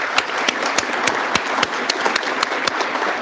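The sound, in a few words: applause, audience clapping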